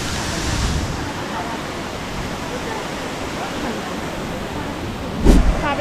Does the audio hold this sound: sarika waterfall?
yes